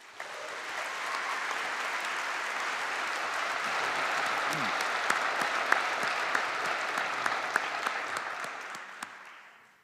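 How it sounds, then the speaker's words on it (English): A crowd at a university commencement ceremony claps steadily for about ten seconds, a full round of applause that swells slightly and then fades out at the end. "So please join me in giving our campus leaders a round of applause."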